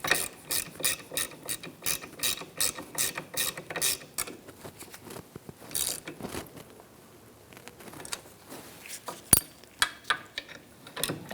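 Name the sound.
ratchet tightening a bolt on a Honda CR-V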